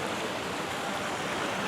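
Water flows steadily over wide rocks along a stream trail near Twin Falls, a close, even broadband rush with no breaks and no voices.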